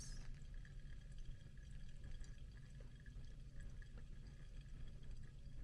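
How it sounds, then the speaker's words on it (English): Hot water poured slowly over coffee grounds in a Hario V60 dripper, a soft continuous trickle and splash close by, quiet and steady with no talking. "then we're gonna pour all the way up to 130 grams from the center"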